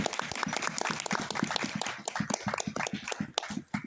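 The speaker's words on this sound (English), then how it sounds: "Give a round of applause, please" Audience applause at a pony convention Quiplash game event, a dense burst of clapping from a crowd, busy and uneven, dipping briefly near the end.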